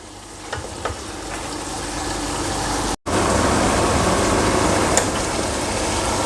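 Chicken and chopped tomatoes sizzle steadily in a pan while cooking down for a chicken and moong-masoor dal, a loud continuous frying crackle broken by one brief cut partway through.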